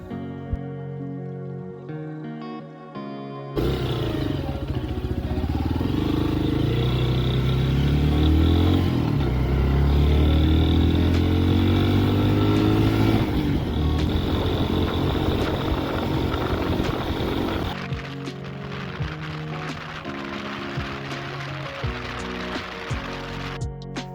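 An enduro motorcycle ridden on a cool day on a first short long-distance trip toward the Dniester, a rider's touring backpack strapped to the rack. The engine drones steadily and loudly with wind rush, after a quiet opening, easing slightly near the end.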